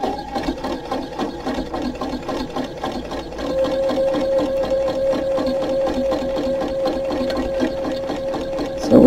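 A sewing machine stitching a quilted fabric journal spine runs steadily at a close, even pace, its rapid needle clatter forming a continuous mechanical hum with a faint whine that rises partway through.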